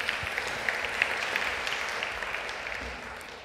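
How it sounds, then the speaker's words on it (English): Audience applause after an introduction at a JavaScript conference talk, a steady wash of many hands clapping filling the hall for a few seconds, moderately loud with no speech over it. "Another round of applause."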